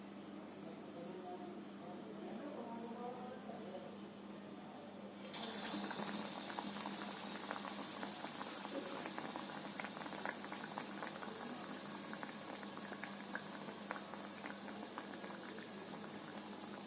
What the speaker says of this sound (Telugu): పనసకాయ బజ్జీలు వేగాయి